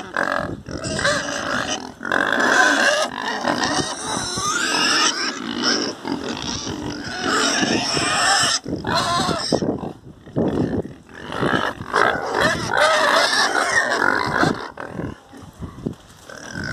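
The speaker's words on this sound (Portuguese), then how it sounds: "Os porcos estão com 90 dias hoje de nascido." Ninety-day-old Duroc and Landrace crossbred pigs on a farm, grunting, oinking and squealing loudly and continuously as a crowded group waiting to be fed, heard close with no pauses.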